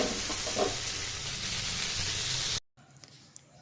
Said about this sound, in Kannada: ಈ ಥರ ಕಲರ್ ಚೇಂಜ್ ಆಗುತ್ತನ ಫ್ರೈ ಮಾಡ್ಕೋಬೇಕು.